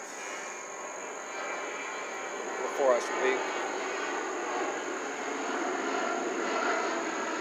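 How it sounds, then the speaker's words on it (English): Fixed-wing aircraft droning steadily overhead in an open outdoor yard, a constant low rumble beneath a brief spoken phrase, with a faint high whine running throughout. "Sounds like a plane's coming"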